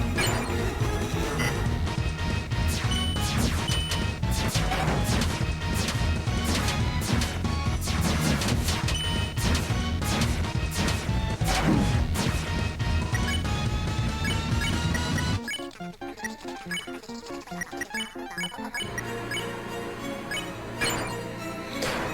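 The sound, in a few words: big shot attack in the video game Deltarune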